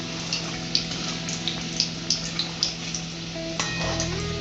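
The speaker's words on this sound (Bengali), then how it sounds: "তো তেলটা গরম হয়ে গেছে, একটা একটা করে দিয়ে দিই এটার মধ্যে কড়াইতে" Paneer samosas deep frying in hot oil in a wok give a steady bubbling sizzle throughout, with faint intermittent clinks or pops at a regular pace and no talking.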